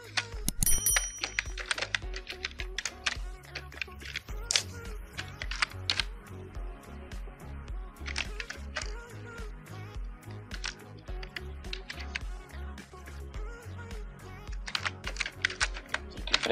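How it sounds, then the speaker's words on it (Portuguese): Fingers typing a full name on a computer keyboard, a close, steady run of crisp key clicks and taps continuing for the whole stretch with brief uneven pauses. "Eu vou digitar o nome aqui da minha amiga."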